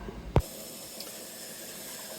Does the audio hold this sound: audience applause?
no